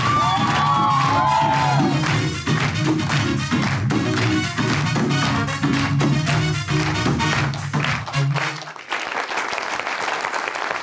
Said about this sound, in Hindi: तालियां बजाइए जोरदार।